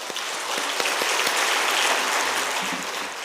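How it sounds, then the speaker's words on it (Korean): A crowd claps enthusiastically in a reverberant hall, dense sustained applause that swells and carries on without pause. "북한전도위원회를 위해서 큰 박수하겠습니다"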